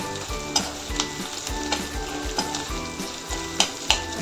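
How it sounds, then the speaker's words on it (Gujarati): Onions and mixed vegetables for a Chinese-style vegetable frankie roll are stir-fried over a high gas flame, giving a close, continuous sizzle broken by regular scraping stirs of the pan, with no talking. "આ બધું આપણે થોડું ફાસ્ટ ગેસ પર એને સાંતળવાનું છે. ઓનિયનને થોડા ગોલ્ડન બ્રાઉન થાય ત્યાં સુધી આપણે એને હલાવવાનું છે."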